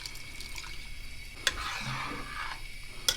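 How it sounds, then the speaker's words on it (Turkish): More water is poured into a simmering pot of meaty dried okra stew, a steady splashing rush with faint sizzling, bracketed by two sharp metallic clinks against the pot. "İki bardak su koydum ama biraz daha su ilavesi yapacağım."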